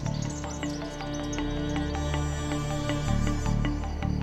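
Birds call in the misty rainforest hills of Coorg, India, scattered repeated chirps and whistles over a steady layer of insect hum, moderately close and without speech.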